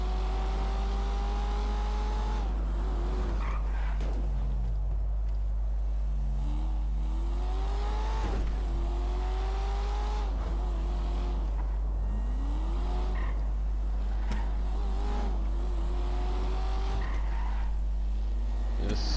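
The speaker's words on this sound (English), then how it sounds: "This car just has so much power when you just plant your foot." Car in Grand Theft Auto flooring the throttle, the engine revving in rising, falling sweeps through repeated gear changes while tyres skid and squeal, loud and continuous over a constant low hum.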